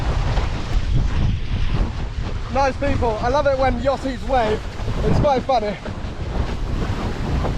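Steady wind rushing and surf noise on the Solent near Portsmouth Harbour during a long windsurf crossing, buffeting the microphone continuously while someone talks over it.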